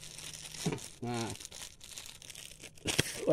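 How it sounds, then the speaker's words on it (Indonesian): Plastic sheeting crinkles and rustles in uneven bursts as it is pulled over and tied around a tied-up bundle on a farm, close by, with a voice talking briefly in the middle. "udah diikat, tutup pakai plastik"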